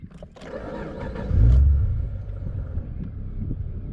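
An engine from a car imported from England fires up with a short burst and a deep rumbling surge, then settles into a low, steady idle close by.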